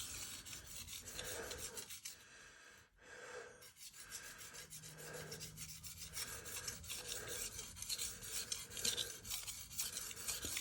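A blade is sharpened on a King 300 splash-and-go water stone with a continuous, quiet rhythmic rasp of strokes back and forth, heard close up with no voices.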